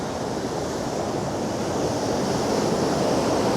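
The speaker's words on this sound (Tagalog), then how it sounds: "Taas ng alon." High waves crash and churn along Dingalan beach in Aurora, a dense, constant roar of surf mixed with gusty wind rumble on the mic, close and loud throughout, with nobody talking.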